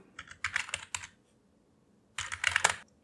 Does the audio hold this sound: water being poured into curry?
no